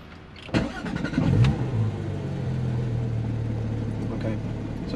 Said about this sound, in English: Vehicle running here.